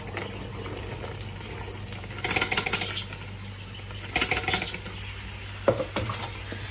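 Beans tipped into a pan of browned fried onions, sizzling and bubbling with stirring bursts and a few clinks, moderate and close, over a steady background hum.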